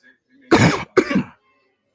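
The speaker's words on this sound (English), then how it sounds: "And I keep coughing" A person coughs twice at close range, two harsh rasping bursts about half a second apart, followed by near silence with a faint click at the end.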